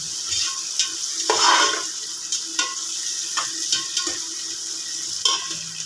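Onions and tomatoes frying in a pan for aloo gobi, a steady close sizzle broken by repeated sharp spatula scrapes and clicks against the pan as the mixture is stirred.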